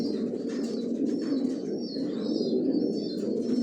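Pigeons in a newly built five-storey breeding loft coo continuously in a dense, overlapping murmur, close and steady, with faint chirps above it and no voices.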